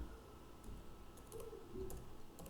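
Keys tap on a computer keyboard during quiz entry in offline teacher quiz-making software, a quick irregular run of faint close clicks with no talk.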